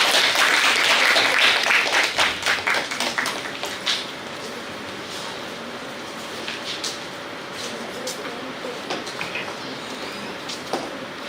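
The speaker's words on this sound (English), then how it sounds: "Let's welcome him with a huge round of applause." Applause welcomes a speaker at a neuroscience conference session at a university, loud at first, then thinning within a few seconds into sparse, scattered claps over a quiet room.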